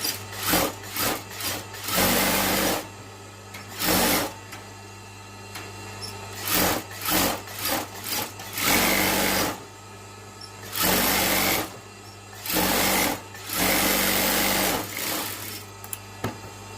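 A sewing machine stitching around the edges of blouse fabric runs in repeated bursts, loud and close. Each whirring run lasts about a second or two and is separated by short pauses, with no talk.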